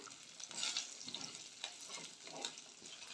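Cashews lightly dry-roasting in a pan for a potato curry, with soft scraping stirs and a faint crackling sizzle, close but quiet and uneven, with no voices.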